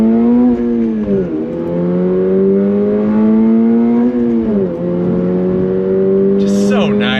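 Toyota GR86 Performance Pack sports car engine revving hard under full throttle, pitch climbing steadily in two long pulls with a brief dip between, loud and close from inside the cabin, with a voice briefly over it at the end.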